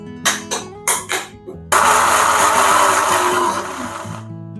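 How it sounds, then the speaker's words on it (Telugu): An electric blender grinds jackfruit with milk into a fine paste. A few short loud pulses come first, then it runs in one sustained, close, roaring whir before stopping. "ఇప్పుడు మనం దీన్ని ఫైన్ పేస్ట్గా గ్రైండ్ చేసుకోవాలండి"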